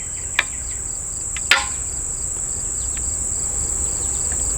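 Two sharp plastic clacks as clips on an XOP Ultra Double Step mini climbing stick slide and lock, heard near and distinct over a steady outdoor chorus of crickets.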